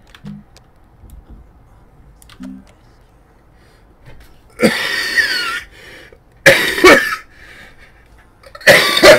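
A coughing fit close to a microphone: three loud bursts of harsh coughs, each lasting about a second, with quiet gaps and faint keyboard clicks between them.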